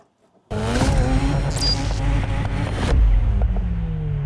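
Mazda RX-8 track car starting to move off after a short silence, its engine a loud steady rumble with brief tire squeal mid-clip and a louder revving push near the end.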